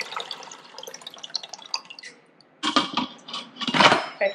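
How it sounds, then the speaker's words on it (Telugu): Water is poured into an Instant Pot's inner liner: faint clinks and trickles first, then loud splashing bursts of pouring in the second half, with no talk. "ఇందులో ఒక 2 to 3 కప్స్ ఆఫ్ వాటర్"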